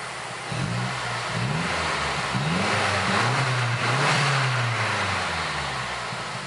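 A Mazda3 MPS fitted with a Japspeed cat-back exhaust, revved repeatedly in quick rising and falling blips, then held at a higher steady rev, loud and close with no talking.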